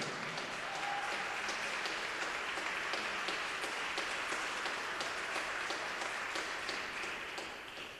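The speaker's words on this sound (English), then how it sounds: "Keep the applause going for Jasmine." Sustained applause from a crowd, a dense wash of many hands clapping at even strength before tapering off near the end.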